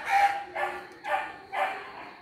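A dog barks four times in a steady rhythm, each loud, close bark roughly half a second apart, with nothing else audible.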